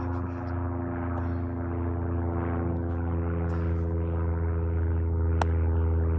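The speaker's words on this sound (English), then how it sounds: "still having airplanes fly overhead." Propeller airplanes drone steadily overhead beside a road in Utah County, a continuous low engine hum holding at moderate loudness throughout with no talk.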